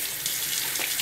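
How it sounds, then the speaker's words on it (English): Tap water runs steadily into a kitchen sink as hands are washed under it, a close, continuous splashing rush over a very short span with no talk. "now I gotta wash my hands again"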